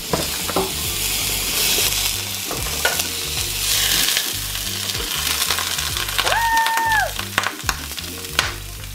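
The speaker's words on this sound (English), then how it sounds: "So I am cooking up some frozen chicken" Frozen chicken sizzles and spits in hot oil in a home kitchen pan, a loud, continuous frying hiss with occasional crackles and pops throughout.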